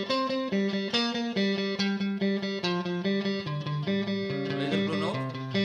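Electric guitar with distortion runs a pentatonic scale using open strings at a brisk tempo, a steady stream of picked notes moving up and down, played alone and close.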